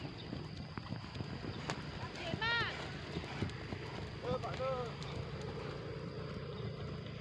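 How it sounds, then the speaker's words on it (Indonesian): A racehorse trains on a sunny morning at the H.M. Hasan Gayo racetrack, its hooves clip-clopping in a fairly quick rhythm at a moderate distance, with someone talking over it and faint wind noise. "ini sudah tampak satu ekor kuda sedang berlatih"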